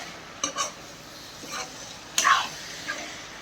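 Cabbage and potato fry in a pan while being stirred, giving scraping and metallic clinks of a spoon against the pan in short bursts over a light sizzle.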